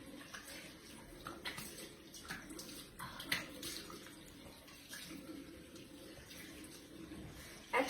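Water splashes and runs as a face is rinsed clean of a creamy scrub, with soft irregular splashes over a steady background wash and no talking.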